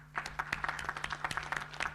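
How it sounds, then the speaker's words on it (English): Sparse audience clapping at a conference in Naivasha, a scattering of individual claps with a steady low hum underneath, moderately faint and slightly distant. "can we clap?"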